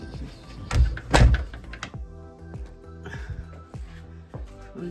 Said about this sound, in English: I'll close the door so you can see.